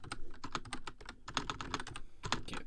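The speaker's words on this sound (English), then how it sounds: "Can't type on these gaming computer keyboards." Rapid typing on a gaming computer keyboard, dense clacky keystrokes in quick irregular bursts, close and crisp, with no voices.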